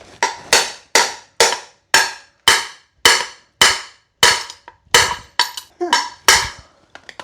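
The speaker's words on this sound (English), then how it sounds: "Hold it, I'll tap the top slightly." Repeated sharp metallic taps on the top of a lawn mower part during repair, about a dozen evenly spaced close, loud knocks over several seconds.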